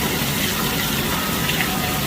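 Rainwater overflowing over the top of a filled container outdoors on a rainy day, a steady broadband gushing and splashing rush that stays loud and even throughout, with no talk.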